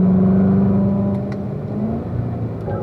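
A Corvette on a race track accelerates hard in fourth gear, its engine a loud, close, steady roar with a rising drone, then easing slightly as the throttle lifts near the end.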